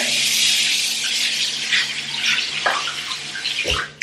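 Tap water gushes steadily onto hair during a wash day for natural type 4 hair, a continuous hissing flow that ends with a short splash and thud near the end, with no talking.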